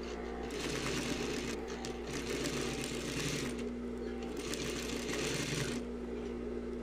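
A sewing machine stitches a short backstitch along a zipper on a dress waist seam, a steady whirring drone with a constant mechanical hum running throughout at moderate level, brief pauses in intensity, faint speech underneath.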